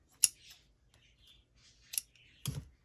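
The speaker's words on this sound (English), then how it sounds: "Cut the ends." Scissors snipping off thread ends while binding craft signatures: a few sharp, close snips spaced apart over quiet background.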